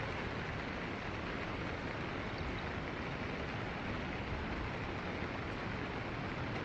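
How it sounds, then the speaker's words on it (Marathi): Monsoon rain falls at an eco resort village in Mahabaleshwar, a steady, even wash of noise that holds unbroken from start to finish with no voices. "थोडा पाऊस पुन्हा एकदा चालू झालेला आहे"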